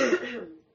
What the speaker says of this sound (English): she coughs all over the thing